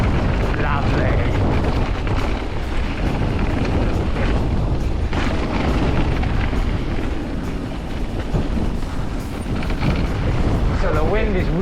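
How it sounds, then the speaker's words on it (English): Strong wind roars continuously into the microphone on a Glentress mountain bike trail, a loud broadband buffeting that stays constant throughout. "So the wind is really picking up here now."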